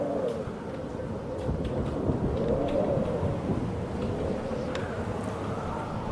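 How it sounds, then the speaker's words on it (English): Low rolling thunder in the video game Amnesia rumbles over steady rain, with faint bird calls in the background. "There's lightning in this game, there's lightning in reality."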